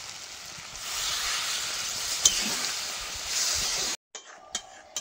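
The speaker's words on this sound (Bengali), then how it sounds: "ভালো করে কষিয়ে নিয়েছি, এবার জল দিয়ে দেবো।" Water poured into a pan of sizzling Ajje fish masala, a steady hissing sizzle that swells briefly, then a few clinks of a utensil near the end.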